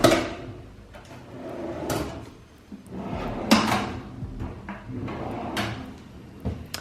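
Drawers in an apartment bathroom are slid open and shut several times, giving a series of close, moderately loud wooden thuds and rolling scrapes over a low room hiss.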